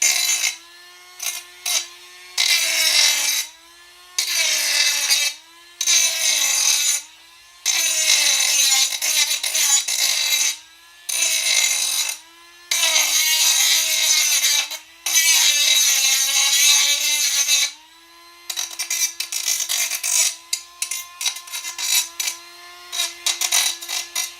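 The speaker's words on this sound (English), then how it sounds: "I'm deburring it, and I'm also putting a little bit of a bevel on it" Repeated rasping strokes of a hand tool deburring and beveling the cut end of an Ubbink vent pipe for a Rinnai tankless heater, close and loud in regular bursts with short pauses between.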